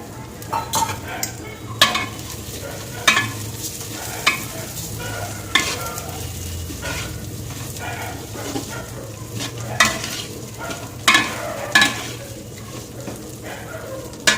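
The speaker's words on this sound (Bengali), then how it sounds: "আমি খুব হালকা করে মুগ ডালটা ভেজে নেব" Lentils fry with a soft, steady sizzle while a spatula stirs and scrapes the pan, producing periodic sharp knocks against the metal.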